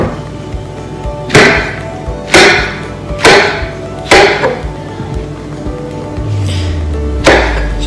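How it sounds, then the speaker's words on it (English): A knife chops through mushrooms on a cutting board for a chicken pie, about six sharp, evenly spaced thuds up close, with a low rumble sliding downward near the end. "So I've chopped them into thin slices and then cut them in half again."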